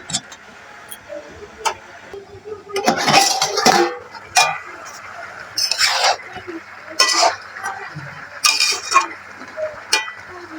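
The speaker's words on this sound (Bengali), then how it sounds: "ভালো করে ঘেটে দেব এবার দিয়ে দেবো ঢাকনা" A spoon scrapes and clinks against a cooking pot as Malabar spinach and pumpkin curry is stirred, with repeated metallic knocks and rattles, ending as a lid is set on the pot, close and fairly loud.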